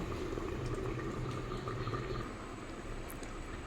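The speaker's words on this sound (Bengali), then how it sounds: "আবারও ঢাকা দিয়ে লো ফ্লেমে মিনিট 2-3 ফুটিয়ে নেব" Drumstick, potato, tomato and fish curry simmering covered on a low flame, a soft continuous bubbling and burble from the lidded pot, faint and steady with no voices.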